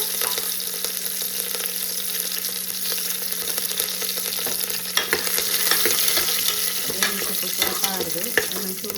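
Spices such as fennel, poppy seeds, star anise, cardamom, cloves and mustard seeds frying in a pan, a continuous close sizzle with scraping stirring strokes and occasional sharp crackles, no one talking.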